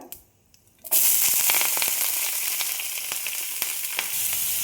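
Onion, ginger, garlic and curry leaves hit a hot pan for an egg puff filling, bursting into a loud, steady sizzle after a brief quiet moment, with faint crackles and clicks throughout.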